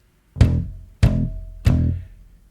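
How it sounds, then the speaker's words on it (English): Bass drum in a children's rhythm song, three deep thumping beats in an even, slow pulse, close and loud with short decays and no other instruments. "It's thumping on the beat."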